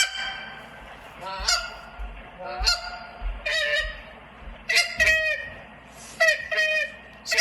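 A goose call blown live in a novice goose calling contest, producing rapid honks, clucks and moaning notes in quick rhythmic bursts, loud and close with little background.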